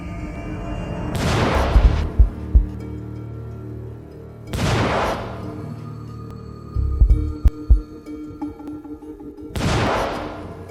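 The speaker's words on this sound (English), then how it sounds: "The explosion is incredibly fast." Liquid explosive detonated as a lecture demonstration: three loud, sharp booms spaced a few seconds apart, each with a rumbling tail, plus a few sharp thuds and clatters after the first two.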